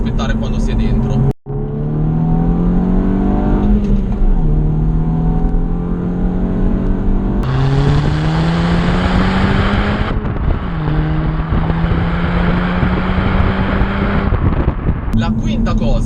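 An Audi TT engine revs hard through repeated rising pulls, loud and close, with shifts between gears breaking up a steady, strong exhaust drone.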